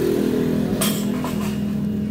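A Yamaha Mio GT scooter engine starts and runs at a steady idle, a continuous close mid-low drone with a brief rev-like rise near the start, with no talking.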